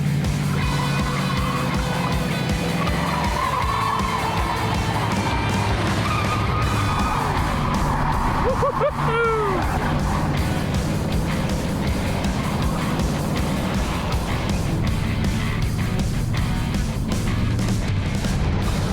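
A Hurst/Olds with a 455 engine driven hard, its tires skidding and squealing over a steady, loud engine roar that runs unbroken through the whole stretch.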